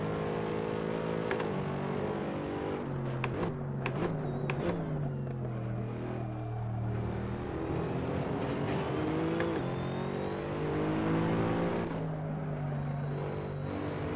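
A GT3 race car in Assetto Corsa at Laguna Seca accelerates hard out of a corner, its engine note climbing through the revs and shifting gears, loud and continuous throughout with no talking.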